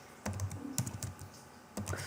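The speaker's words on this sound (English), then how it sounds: "I have to type it all over again." Keys clatter on a computer keyboard in two short bursts of quick typing, close and fairly soft, separated by a brief pause with no voices.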